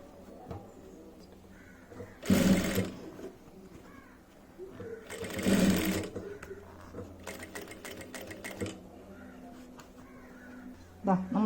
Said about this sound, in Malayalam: ഇനി നമുക്ക് ഇതിങ്ങനെ വെച്ചിട്ട് ഇവിടെ ഒന്ന് മെഷീനിൽ സ്റ്റിച്ച് ചെയ്യാം